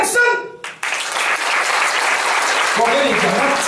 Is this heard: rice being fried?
no